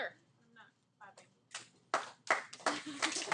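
Scattered hand claps from a small group of students in an algebra classroom build up toward the end, mixed with some talking voices, a few isolated claps before.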